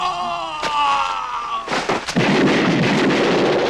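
Heavy gunfire bursts from a movie's opening jungle battle scene, a few sharp booming cracks followed by dense rumbling volleys, loud and close, after a stretch of tonal score.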